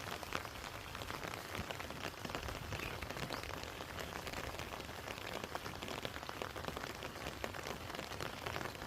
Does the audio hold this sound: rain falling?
yes